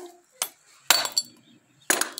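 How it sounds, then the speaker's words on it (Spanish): Sharp metallic hammer taps seat an engine valve in a small motorcycle engine, three separate close strikes with short quiet gaps between them. "Vamos a probar con el martillo."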